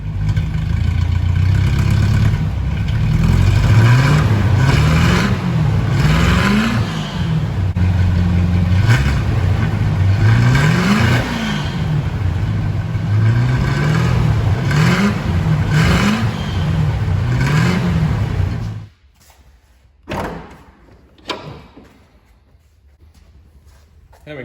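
A 1976 Rover P6 3500 with an all-aluminium 3528cc V8 and twin SU carburettors runs loudly and close, swelling through repeated rising and falling revs before cutting off, followed by a few brief knocks.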